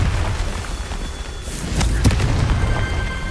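A Confringo fire spell explodes in Hogwarts Legacy with a dense rumbling boom and sharp burst around the middle, over continuous crackling low-end game noise.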